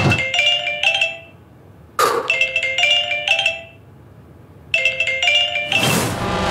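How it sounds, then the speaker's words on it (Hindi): A phone ringtone plays a bright, repeating chime melody in three bursts separated by short pauses, close and clear. "अब मुझे फोन आ रहा है"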